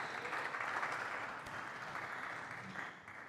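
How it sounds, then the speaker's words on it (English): An audience at the semi-finals of the 2024 Manchester Northern Open squash tournament applauds the runner-up. The clapping is steady and continuous, moderately loud throughout, with no voices over it. "please do keep your applause going for your runner-up, Sam Osborne Wild."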